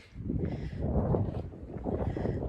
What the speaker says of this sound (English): A little windy, but not bad.